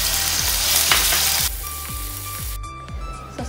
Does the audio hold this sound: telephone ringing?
no